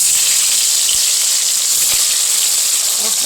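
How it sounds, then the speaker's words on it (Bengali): Rohu fish pieces fry in hot oil, producing a loud, dense, steady hiss of sizzling with a few faint pops, close by and uninterrupted, with no talking. "এই তেলে আবার আমি মাছগুলো দিয়ে দেবো,"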